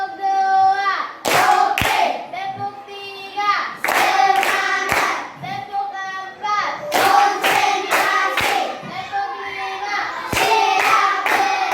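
A school class claps hands in a rhythmic ice-breaking clapping game, with sharp bursts of unison claps alternating with children's chanting voices, repeating in short patterned phrases.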